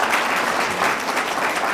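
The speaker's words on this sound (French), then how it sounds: "Les applaudissements sont mérités en effet." Steady, loud audience applause at a political café talk on Mali's foreign policy, dense clapping from many hands holding evenly throughout.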